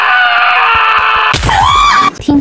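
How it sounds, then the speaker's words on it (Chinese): A Minecraft character lets out a loud, wavering scream in the game, cutting in abruptly after a sustained tonal game sound and ending in a short burst of noise. "听到他惨叫了"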